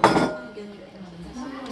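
Pan-fried pork goes into a cooking pot for a Brazilian feijoada, marked by one sharp, close metallic clink of utensil against pot, then a quiet low-toned kitchen background.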